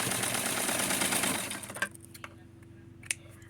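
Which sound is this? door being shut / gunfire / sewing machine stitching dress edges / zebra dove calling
sewing machine stitching dress edges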